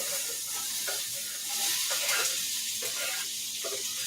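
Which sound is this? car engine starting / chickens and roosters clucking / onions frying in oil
onions frying in oil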